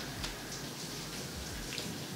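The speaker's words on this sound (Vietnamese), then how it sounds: "các bạn có thể nghe thấy tiếng mưa rất là to ở ngoài kia tại vì nhà mình đang mưa to quá" Heavy rain pours down outside a home, a steady, even hiss of drops beating on surfaces with a few louder drips standing out, heard from indoors at a moderate level with no voices.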